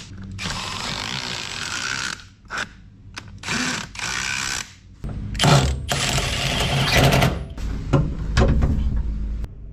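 Power tool and ratchet work while bolting seats into an HJ47 Toyota Land Cruiser, with bursts of whirring and clicking separated by short pauses, close and fairly loud, no talk.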